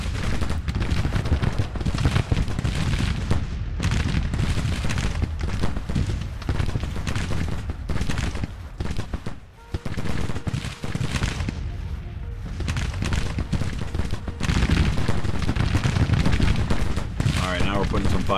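American Civil War battle in Grand Tactician with Union troops engaging near Atlanta: dense rifle volleys and booming artillery fire continuously crackling and thudding, loud and layered.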